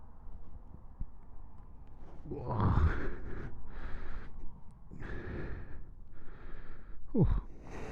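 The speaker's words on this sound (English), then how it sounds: "hence the heavy breathing" Heavy breathing from a rider packing a small motorcycle saddlebag on a Triumph Speedmaster, faint close sighs and puffing exhales in a few bursts against quiet background.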